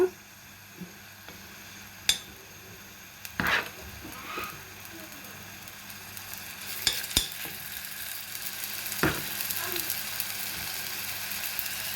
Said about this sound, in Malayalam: ഇനി അതിലേക്ക് നമുക്ക് ഈ ചിക്കൻ ഒന്ന് ഇട്ട് കൊടുക്കാം.